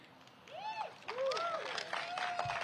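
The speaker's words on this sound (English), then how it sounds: "Give yourselves a round of applause." Audience of festival partners at a New York City festival kickoff applauding, a steady wash of clapping with voices and cheers rising over it.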